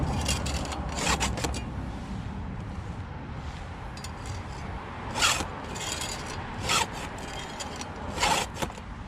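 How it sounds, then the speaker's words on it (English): A round file rasps across chainsaw chain teeth, rhythmic scraping strokes repeating every second or so, close and fairly loud, with a few sharper metallic scrapes standing out. "You always want to be pushing the file, not pulling."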